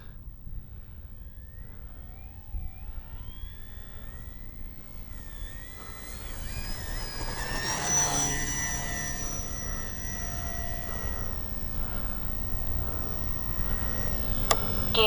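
An FMS Pilatus PC-21 radio-controlled plane takes off, its electric motor whine rising in pitch and growing louder, then holding a steady high drone with wind and ground noise behind it.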